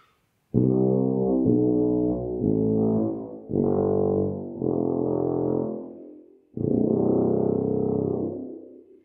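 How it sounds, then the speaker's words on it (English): A tuba plays a slow series of deep, sustained low notes, each held a second or so, with brief breaks between phrases and no talking. "So I'm going to demonstrate a little bit of the sound of the tuba."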